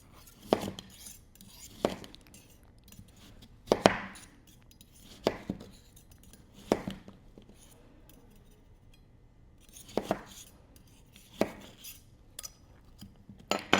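A knife slices down through a red onion held in a hair tool used as a slicing guide, giving about ten sharp, separate cutting clacks at irregular intervals, close and without talk.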